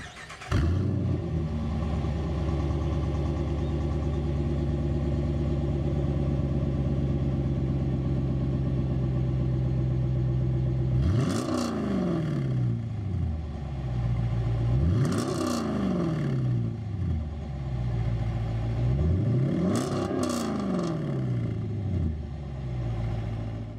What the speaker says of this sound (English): this car is freaking loud and it sounds beastly